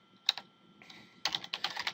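Crisp keystrokes on a computer keyboard come in two short clusters, then a brief lull, then a faster run of close, clear taps.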